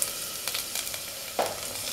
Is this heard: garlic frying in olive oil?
yes